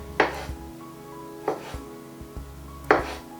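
A knife cuts through drained olives on a cutting board, giving three distinct, sharp chops spaced about a second apart, close and fairly quiet, with a low kitchen hum between the cuts.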